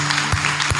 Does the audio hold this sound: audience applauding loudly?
yes